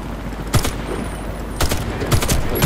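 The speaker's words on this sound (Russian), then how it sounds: "Гадина стреляет." Enemy gunfire in Warface, heard as three short, loud bursts of shots, the first alone and the last two closer together, over steady background game noise.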